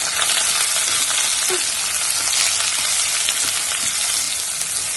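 Chopped onions sizzle and crackle steadily in a hot pan, cooking for a homemade butter chicken masala, a close, continuous frying hiss with occasional stirring and no talking.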